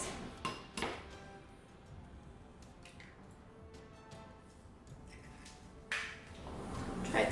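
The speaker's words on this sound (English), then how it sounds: "Now I'm going to crack 4 eggs" Eggs cracked one after another against a bowl for cake batter, sharp brief taps and clinks close by, separated by quiet kitchen pauses, with a louder rustle near the end.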